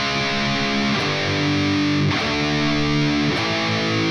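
Distorted electric guitar power chords chugging steadily beneath a rock solo part, loud and dense, with chord changes roughly every second, played alone without talk.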